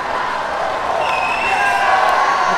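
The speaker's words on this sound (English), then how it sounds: "Who wants to hear some crowd noise?" A swimming championship crowd roars from the stands after a first-place finish in a final, producing a steady, loud wash of cheering and whoops that swells slightly toward the end.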